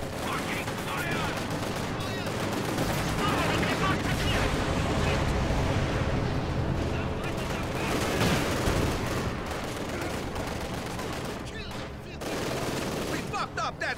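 Dense, continuous gunfire and explosions in a multiplayer World War II-style shooter with aircraft overhead, a loud, unbroken fusillade lasting throughout with voices mixed in.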